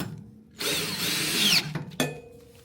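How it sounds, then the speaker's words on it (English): A power drill spins up on bracket bolts on a Tesla Cybertruck, one long loud whirring burst that rises as the bolt seats, then a brief second pulse close by. "we're going to go ahead and use the drill to tighten them up"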